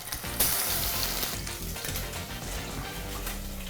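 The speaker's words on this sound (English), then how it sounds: "First stage, what we wanna do is we wanna sear the tofu, which means create a nice browning on both sides." Tofu sears in hot oil in a pan, a steady close-up sizzle and crackle of frying that runs unbroken throughout, with no voices.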